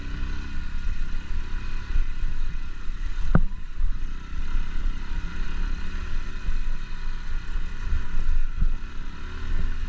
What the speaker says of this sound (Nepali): 3 गियरमा तान्दैन बाइकले